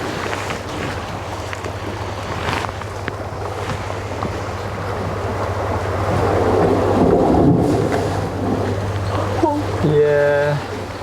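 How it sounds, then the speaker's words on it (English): Sea waves washing against the shore in Penghu, a low rushing surge with wind noise that swells in the middle and then eases, with a voice briefly heard near the end. "You see that the wave is smooth, but you can hear the sound."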